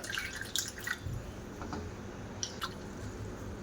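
Water drips and squishes as papad pieces are washed and soaked for a papad paratha, with scattered wet droplets and soft squelches over a constant background hiss.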